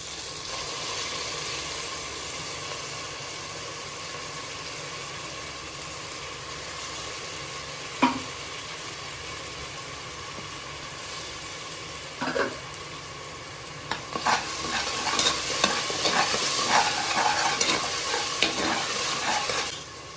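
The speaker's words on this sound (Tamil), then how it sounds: "வெங்காயம் தக்காளி இஞ்சி பூண்டுலாம் இந்த அளவுக்கு வதங்கிடுச்சு." Onion, tomato and ginger-garlic paste sautéing in a pan for a Tamil chicken kulambu, a continuous soft sizzle that grows busier near the end with bursts of stirring and spattering, close by and free of speech.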